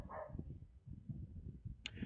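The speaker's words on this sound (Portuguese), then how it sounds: "o cachorro tá latindo, nem é meu esse cachorro" A dog that is not the household's own barks somewhere nearby, several short muffled barks spaced irregularly at moderate distance, with no talking over them.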